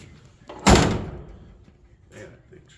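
A 1963 Nova SS convertible's door slams shut with one loud, close thunk, followed by a fainter rattle shortly after.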